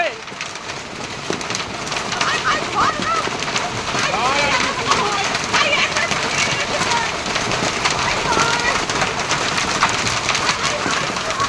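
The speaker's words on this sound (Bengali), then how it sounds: "শিল বৃষ্টি হচ্ছে জোর জোর ফাটে শিল বৃষ্টি হচ্ছে" Dense, constant clatter of hail pelting down hard on surfaces nearby, with a voice talking over the noise.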